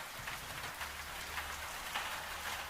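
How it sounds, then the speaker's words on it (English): Steady rain patters on the roof of a Scottish farmhouse kitchen, a dense, even hiss of drops with a low rumble beneath, heard close and alone with no voices. "the rain on the roof is just the world doing what it"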